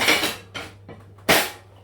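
A bowl being set down on a kitchen counter while preparing a homemade chicken pie: a few short clattering knocks, the last one loudest, close by with no talk.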